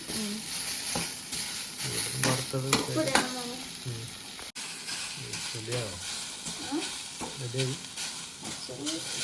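A pan of vegetable upperi being stir-fried, its steady sizzle broken by repeated spoon scrapes and stirring clatter, close and fairly even throughout, with faint voices in the background.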